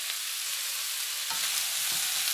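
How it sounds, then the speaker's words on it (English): Chicken, asparagus and carrots stir-frying in a pan, a steady close hiss of sizzling oil with faint scrapes and soft knocks as the vegetables are stirred, no voices. "We're going to add in the asparagus and the carrots."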